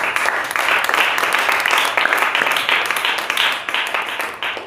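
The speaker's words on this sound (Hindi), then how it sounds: "क्या ताली आप दे सकते हैं?" Steady applause from a church congregation during a Hindi sermon, dense and loud clapping sustained for several seconds with a faint voice underneath.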